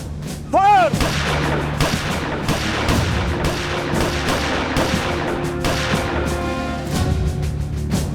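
Guns are shouldered and fired in a repeated volley of loud, sharp shots that crack out close by in irregular bursts over several seconds. A faint voice is briefly heard near the start.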